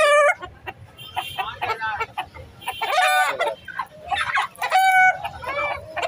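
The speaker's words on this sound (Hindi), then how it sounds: "अच्छा, वो असील मुर्गी है," Aseel hens cluck and squawk repeatedly in short bursts, close by, with a rooster-like call mixed in amid lively farmyard bird noise at a Sunday poultry market.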